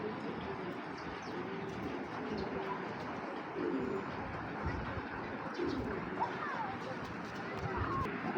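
Fancy pigeons, including a large Military-breed hen, cooing steadily in soft, low, repeated calls, with a person talking over the birds throughout.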